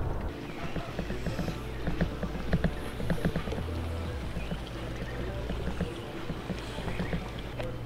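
An old boat being paddled, soft water swishes and dips repeating irregularly alongside a low steady motor-like hum, close and fairly quiet.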